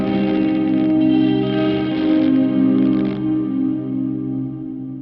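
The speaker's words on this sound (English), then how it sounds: "It's a bit crunchy, that reverb at times, but it's a cool reverb." Guitar played through a MOD Dwarf pedal with a massive stereo reverb, sustained chords washing into a dense, slightly crunchy tail that gradually fades.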